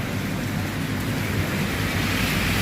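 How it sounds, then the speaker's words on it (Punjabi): Heavy rain pouring down over a city street in Jalandhar, Punjab, a loud, dense and unbroken roar of falling water that stays constant throughout with no voices. "ਦੁਆਬੇ ਏਰੀਏ ਦੇ ਵਿੱਚ ਪੈ ਗਿਆ ਅੱਜ ਮੀਂਹ ਫੁੱਲ ਬਟਾ ਫੁੱਲ"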